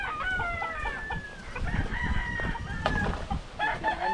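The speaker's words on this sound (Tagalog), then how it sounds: "Ganda ng manok ah." Chickens cluck and a rooster crows nearby in a farmyard, with overlapping calls and a busy background of rustling and movement.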